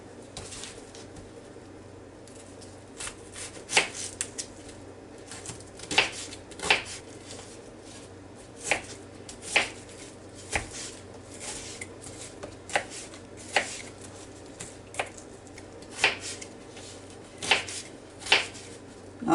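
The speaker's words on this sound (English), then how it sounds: "I'm just going to chop up these onions just a little bit" Onions chopped on a board with a knife, sharp distinct knocks at an uneven rhythm, about a dozen strikes spread throughout, close against a quiet background.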